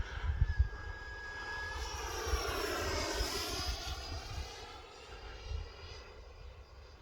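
E-flite F-16 Falcon 80mm electric ducted-fan RC jet making a flying pass, its whine rising and sweeping in pitch as it passes overhead, then fading into the distance.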